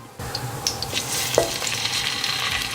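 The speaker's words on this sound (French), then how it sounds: "L'huile est chaude, ça frémit." Chicken pieces are laid into hot olive oil in a wide pan, setting off a sudden bright sizzle that continues as a steady crackling fry with small pops and spatters.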